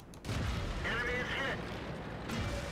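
A tank shell strikes an enemy tank in World of Tanks, producing a loud, booming impact that rolls on as sustained rumble over about two and a half seconds, with a voice speaking over it.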